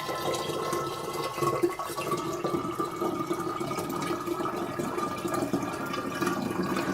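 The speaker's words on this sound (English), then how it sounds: "So pour it into your container after it's cooled." Cooled sugar water for making water kefir is poured into a container, giving a continuous splashing, gurgling trickle that lasts about seven seconds at a steady level, with no voices.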